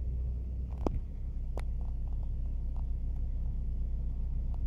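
A car drives along Main Street in downtown Flin Flon, Manitoba, in winter cold, with a steady low engine and road rumble throughout and a couple of brief sharper knocks early on.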